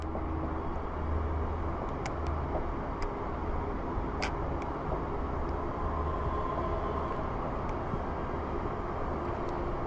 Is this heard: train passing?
yes